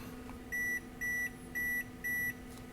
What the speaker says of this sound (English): we heard some beeps up there and it said setting up the Wi-Fi